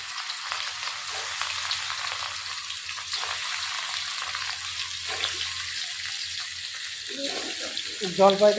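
Rohu fish frying in hot oil in a home kitchen, a steady soft sizzle and crackle running throughout, with a few louder clatters or stirs near the end.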